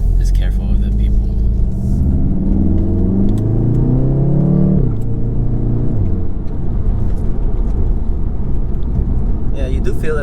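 A 2019 Subaru WRX fitted with a Remark Stealth Edition axleback exhaust revs hard under acceleration, its loud engine note climbing steadily before dropping at a shift into a deep, sustained exhaust rumble, heard from inside the car.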